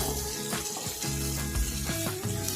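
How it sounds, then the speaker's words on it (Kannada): Sliced onions fry in oil in a pan over a low flame, with a steady, even sizzle throughout and soft ticks from stirring. No one speaks. "ಈರುಳ್ಳಿ ಸ್ವಲ್ಪ ಲೈಟಾಗಿ ಗೋಲ್ಡ್ ಕಲರ್ ಬರೋ ತನಕ ಇದನ್ನು ಫ್ರೈ ಮಾಡಬೇಕು"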